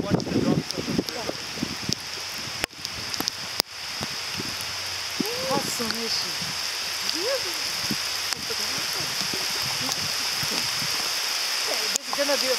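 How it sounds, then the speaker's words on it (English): Steady rain hisses across the whole scene, with water splashing and scattered voices talking and calling out. "And it's raining."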